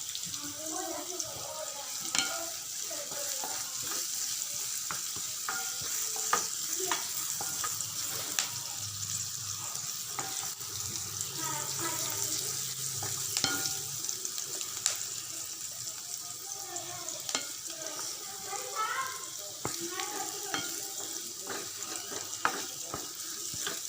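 Garlic and onions sizzling in a pan of oil for veg chowmein, a continuous close frying hiss with stirring clinks and scrapes, a voice talking faintly at times.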